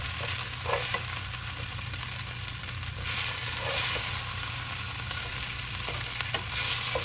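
Chicken pieces frying and browning in a pan, a steady loud sizzle throughout with occasional crackles and spatters, close up and with no talking.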